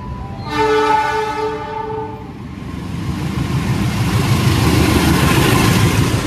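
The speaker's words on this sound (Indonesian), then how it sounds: "pas banget dari sana ada kereta melintas langsung" A train passes on a railway track in Indonesia, opening with a loud sustained horn blast that fades into a heavy rolling rumble of wheels on rails, close and steadily building.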